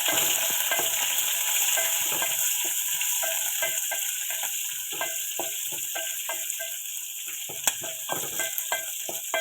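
Chopped onion pieces stirred and frying in a pan, a steady close sizzle broken by repeated scraping strokes of the spoon throughout, with no talking.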